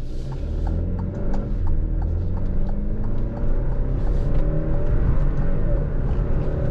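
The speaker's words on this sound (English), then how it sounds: "it sounds like a turbocharged inline 4" A 2022 Alfa Romeo Stelvio's turbocharged inline-four engine hums and revs at close range, a steady low drone with shifting pitch and faint ticking over it.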